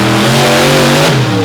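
Racing trucks roar around the track at an Overdrive Battle event, loud and close, with a steady, strained engine drone and shifting harmonic pitch that dips near the end.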